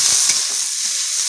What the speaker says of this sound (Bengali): উচ্ছেটা হালকা করে ভাজা করে নেব। সুন্দর করে ভাজা করে নেব।